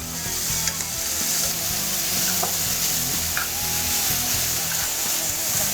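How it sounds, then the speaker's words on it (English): Chicken and shrimp sauté in a pan for a creamy chipotle penne, giving a steady, loud sizzle and frying crackle with light stirring throughout and no talking. "And let those guys saute for about another 2 to 3 minutes."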